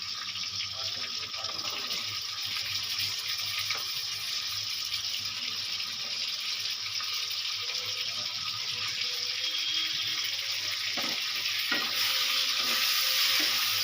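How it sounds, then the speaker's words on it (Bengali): Chicken pieces frying in oil with cumin and spice masala, a steady loud sizzle running throughout with occasional stirring scrapes, close up, no talk. "এবার আমি দিয়ে দেবো চিকেন"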